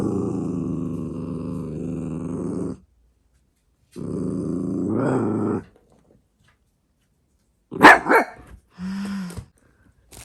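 A dog lets out two long, low grumbling growls close by, followed by a few short huffs and grunts, with quiet gaps between.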